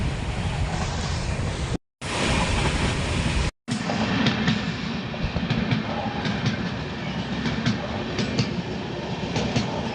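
The Kanniyakumari–Chennai Express passenger train rumbles along at speed at night in India, a loud continuous roar with rhythmic clicking of wheels over rail joints, briefly cut out twice.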